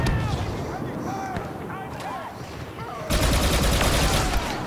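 Rapid weapon fire and blasts from a rocket launcher in Star Wars Battlefront 2, dense and loud, growing heavier in the last seconds, with game sounds throughout.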